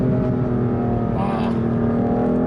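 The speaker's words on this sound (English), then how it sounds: "it really pops at the higher RPMs" A 2018 BMW M3 engine revs hard at high RPM with a steady, loud drone and a brief rising burst in the middle, heard from inside the car under ongoing talk.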